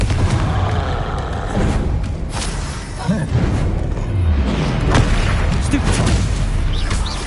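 Dense magical combat in a Hogwarts Legacy battle, with booming blast impacts and crackling bursts rolling loudly and continuously over several seconds.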